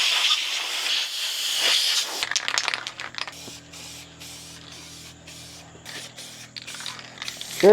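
Spray paint hisses steadily at close range as a light coat goes onto the brake calipers of a BMW G80 M3, painted yellow. Short hissing bursts and faint rattles follow.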